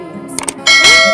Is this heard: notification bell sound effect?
yes